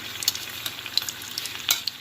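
Seafood spring rolls filled with lobster, smoked salmon, shrimp and cheese deep-fry in hot oil, giving a steady soft sizzle dotted with small bubbling pops, alone without talk.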